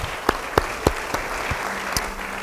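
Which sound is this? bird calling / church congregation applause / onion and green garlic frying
church congregation applause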